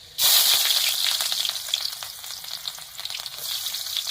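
Onion and chilli drop into hot oil with garlic, likely in a pan over a wood-fired stove: a sudden loud sizzle bursts out, then continues as a dense, crackling fry that eases slightly and swells again, with no voices.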